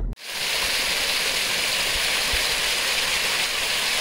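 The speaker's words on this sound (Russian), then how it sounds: "А водопад любви." A waterfall pours in a steady, fairly loud hiss of rushing water, continuous and broadband after a brief silent start, with no voices.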